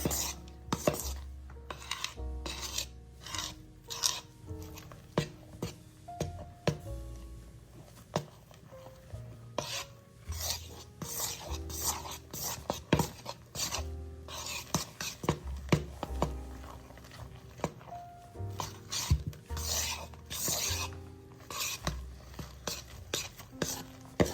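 A no-bake Christmas candy mixture is stirred and folded in a kitchen bowl, with repeated scraping, soft thuds and utensil clinks scattered throughout while voices talk quietly over it.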